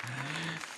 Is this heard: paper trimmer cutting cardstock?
no